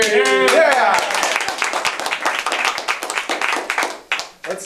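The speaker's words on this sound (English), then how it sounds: "Part of my function as a Toastmaster is to make sure everybody claps as well" Audience clapping at a Toastmasters meeting, a scattered run of sharp hand claps that thins and fades out, with a voice heard over the start.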